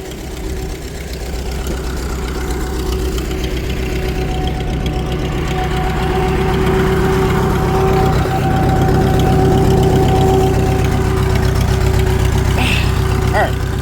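A Farmall 350 tractor that sat unused for five years idles steadily with a low, rumbling chug, close and loud throughout, while a faint tone rises and falls in the background.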